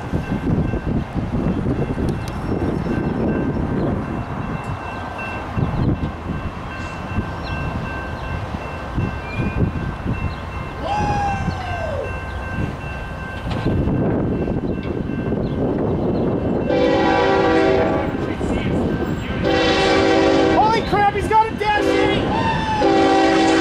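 A train rumbles past loudly and continuously near Mojave in the Tehachapi area, its horn blaring in long blasts near the end over the heavy rolling noise.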